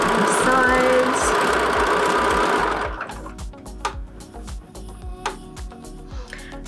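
Sewing machine stitching the side seam of a stenciled tote bag, a fast continuous whirring run for about three seconds, then slower broken bursts of stitching with pauses.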